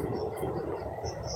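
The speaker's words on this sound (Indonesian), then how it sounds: "Ini ada suara kereta ya, karena emang dekat jalur rel kereta." A train passes on a nearby railway line, heard as a continuous, even rumble with a broad hiss, steady and moderately loud throughout the brief moment.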